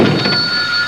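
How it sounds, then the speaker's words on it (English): A telephone rings with a steady electronic trill in a television drama scene, loud and close, heard alone without talk. "Celia, if you are going to be working here, why don't you start by answering the phone"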